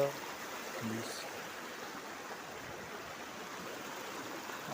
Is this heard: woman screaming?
no